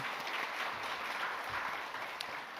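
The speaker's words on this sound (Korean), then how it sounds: "오늘 은혜 주신 또 우리 갈릴리 찬양대회도 감사와 축복의 박수 올려드립니다" Church congregation applauds the choir after a Korean worship sermon, a steady, fairly faint wash of clapping from a large room that continues evenly throughout.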